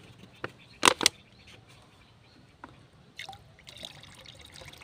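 Fish-based liquid fertilizer poured from a nearly empty bottle into a spoon for feeding cauliflower plants, a short close trickle and splash followed by faint drips and light handling noise.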